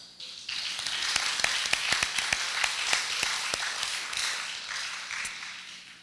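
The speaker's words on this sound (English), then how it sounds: "deserve a big round of applause" Audience applause at an inter-secondary school semi-final debate competition, honouring the panel and helpers: a steady patter of many hands with sharper individual claps standing out, filling the room for several seconds.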